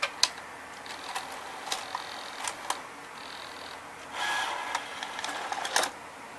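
A Sony EV-C200 Hi8 VCR ejects a tape, giving a series of sharp mechanical clicks and clacks from the loading motor, with a brief whirring stretch midway, close and fairly quiet with no talking.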